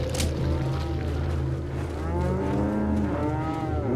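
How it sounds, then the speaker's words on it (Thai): Several cows low in long, drawn-out moos in Resident Evil 4, overlapping and fairly close over a low rumbling game backdrop. "วัวเต็มไปหมดเลย"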